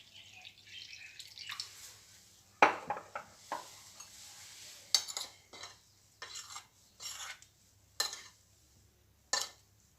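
Egg and milk stirred into a chin chin dough mixture in a home kitchen: a quiet room, broken by intermittent scrapes and clinks of a spoon against a bowl, in short, irregular bursts.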